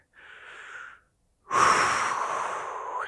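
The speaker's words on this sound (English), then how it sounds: "Take a few deep breaths." Deep, slow breaths drawn in and let out close by, a soft inhale followed after a short pause by a longer, louder exhale, with no talking.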